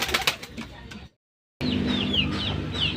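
Racing pigeons after a race, soft coos and clucking calls up close, broken by a brief silent gap before the calls resume over a low background murmur.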